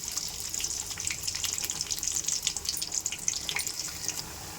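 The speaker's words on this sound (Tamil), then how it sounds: "இப்போ எண்ணெய் ஊற்றிக்கலாம். இப்போ வெங்காயம் போட்டுக்கலாங்க." Chopped onions sizzle in hot oil in a kadai, a steady crackling hiss with rapid spitting pops that holds throughout, with no voices.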